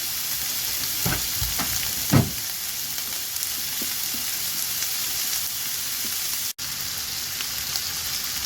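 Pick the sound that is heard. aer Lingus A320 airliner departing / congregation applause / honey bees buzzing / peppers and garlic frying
peppers and garlic frying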